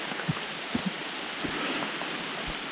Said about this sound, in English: I don't want to hike in the rain